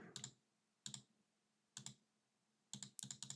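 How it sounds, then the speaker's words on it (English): Clicks on arrow buttons of a website, heard as short, crisp mouse or key clicks in irregular bursts separated by silence, close and fairly quiet, ending with several quick clicks in a row. "arrows, you can click them up and down"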